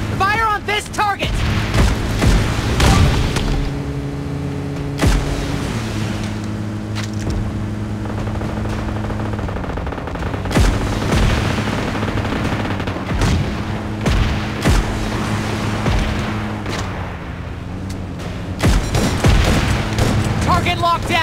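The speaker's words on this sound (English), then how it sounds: "Fire on this target!" Gunfire and booms from PUBG Mobile gameplay, with repeated shots over a steady engine-like drone, while a voice talks throughout.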